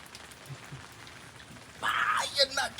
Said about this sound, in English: So I am out here in the pouring rain